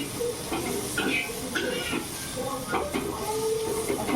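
Green chillies roast in a hot pan for a Marathi thecha recipe, giving a steady sizzling hiss with small crackles and pops, close and continuous throughout.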